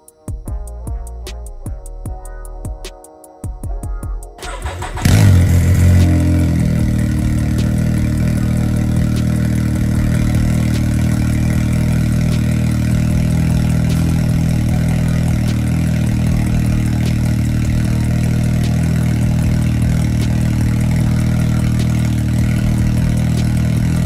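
Can-Am Maverick X3 engine starting for the first time after a new head gasket: a few seconds of cranking, then the engine catches and settles into a loud, steady, close idle.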